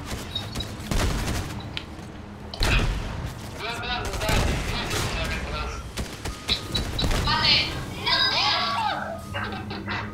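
Fortnite gunfire crackles in quick bursts and scattered shots amid the game's sound effects, while excited children shout and talk over the action throughout.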